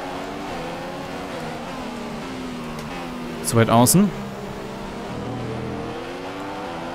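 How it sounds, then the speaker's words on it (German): Formula 1 race car with a Mercedes engine in F1 2015, its steady high engine tone running throughout, with a brief loud revving burst midway as a voice speaks in German. "Da kommt schon Maldonado mit dem Mercedes-Motor an."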